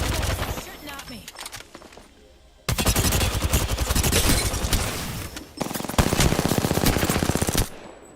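In a video game shooter, long bursts of loud, rapid machine gun fire rattle at close range, broken by short pauses, with players talking in places.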